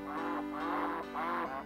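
Ducks in the Dink Smallwood HD video game quack three times, each quack rounded and clear, in an even rhythm over a soft steady game background with no talking.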